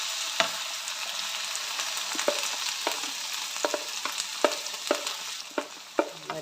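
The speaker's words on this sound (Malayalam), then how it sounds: "വെളിച്ചെണ്ണ ഒഴിച്ച് കൊടുത്ത് അതിലേക്ക് നമുക്ക് അരിഞ്ഞു വെച്ചിരിക്കുന്ന വെണ്ടയ്ക്കായിട്ട് കൊടുക്കാം" Chopped okra frying in coconut oil in a pan for vendakka pachadi, giving a steady close sizzle broken by sharp spatula scrapes and taps at irregular intervals, with no one talking.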